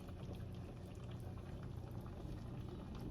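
Healthy one-pot soup already boiling in a pot, giving a quiet, steady stream of small bubbling pops with no talk.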